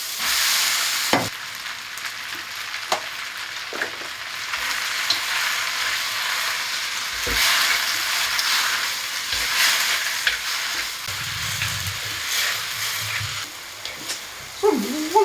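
Flat rice noodles being stir-fried in a small pot for dinner, a loud continuous sizzle with repeated scraping strokes of the spatula, and a brief thump near the end.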